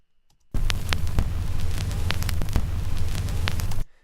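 Vinyl crackle sample layered over an electro kick drum: a dense, loud bed of hiss and popping clicks with a heavy low-end rumble, running steadily for about three seconds before stopping abruptly.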